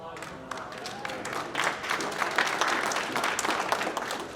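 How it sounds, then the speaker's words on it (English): An audience at the Wirepoints Freedom Summit breaks into applause, scattered claps at first that swell into fuller, sustained clapping, with voices talking over it. "I think everybody deserves a round of applause."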